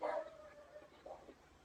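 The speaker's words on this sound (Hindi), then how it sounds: "क्यों भौंक रहे हैं?" Faint dog barking in the distance, a short bark at the start and another soft yelp about a second later, over a quiet background.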